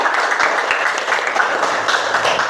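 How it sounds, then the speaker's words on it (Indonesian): Classroom applause from students after a group presentation: a brief burst of dense, continuous clapping, fairly close and steady for a couple of seconds. "Tepuk tangannya dulu dong"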